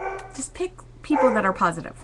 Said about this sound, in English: if you can hear my barking dog in the background